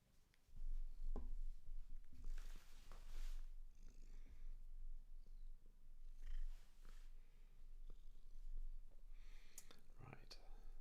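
Cat purring on a desk, a low close rumbling purr running through most of the clip under soft, quiet whispered speech and a few small knocks and rustles.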